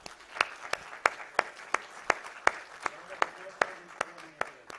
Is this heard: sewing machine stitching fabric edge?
no